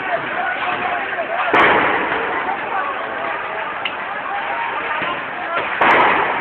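Birdshot gunfire during street clashes in Tahrir Square, Cairo: two sharp loud bangs a few seconds apart over a dense, noisy crowd din with shouting voices nearby.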